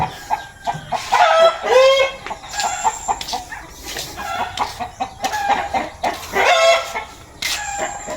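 A rooster crows loudly several times, mixed with clucking hens nearby, calls overlapping in a busy farmyard chorus.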